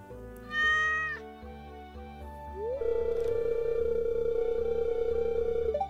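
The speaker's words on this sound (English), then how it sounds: "You see this cat here? I see that cat. I found it sitting outside the entrance to your farm." A cat in the Stardew Valley farming game gives one clear meow near a stray's spot by the farm entrance, followed by a long steady electronic tone over soft background game music.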